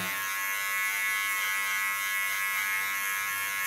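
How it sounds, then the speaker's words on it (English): Electric hair clipper trimming a woman's hair, a steady high-pitched motor buzz held close and unbroken for several seconds. "Don't push on the clipper blades because then her skin gets irritated and I need to bleach it."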